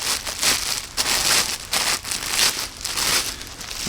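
Plastic packaging around a Ryan Swords iaito crinkles and crackles in quick, uneven bursts as it is pulled open, close and fairly loud.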